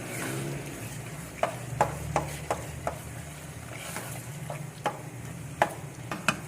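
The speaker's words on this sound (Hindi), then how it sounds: "ये टमाटर भी डालकर मैंने मिक्स कर दिया।" Tomatoes are stirred into beef keema with peas cooking in a pot, a soft sizzle running underneath while a spoon knocks and scrapes against the pan in a string of sharp irregular clicks; no one speaks.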